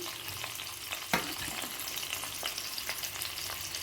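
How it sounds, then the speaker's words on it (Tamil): About ten garlic cloves, five or six green chillies and a piece of ginger sauté in hot oil, making a low, even crackling sizzle punctuated by a single clear knock and light scraping of a spoon; nobody talks. "நாம் இஞ்சி பூண்டு பச்சை மிளகா வதக்கி எடுத்துக்கணும்"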